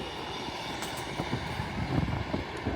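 Class 158 diesel unit 158 816 at York station, a steady low rumble with faint clanks and squeals from the platform, heard at moderate distance without voices.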